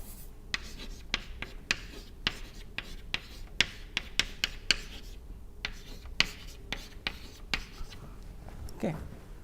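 Chalk or pen writing by hand during a lecture on thin film dynamics: a steady run of short, close scratching strokes, some sharp and tapping, with faint room tone and no speech.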